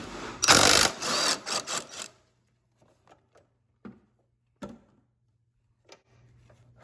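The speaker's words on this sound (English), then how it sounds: "I'd recommend using a heavier duty impact to remove them." An impact wrench spins off 15mm engine mount bolts on a Fiat 500 Abarth, one loud, close, rattling burst lasting about a second and a half, then near-silence with a low hum and a few small clicks.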